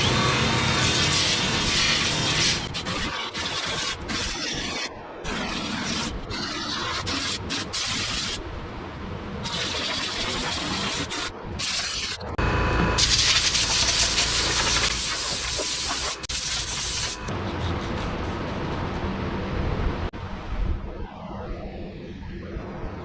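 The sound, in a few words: sander scuffing fiberglass roof lip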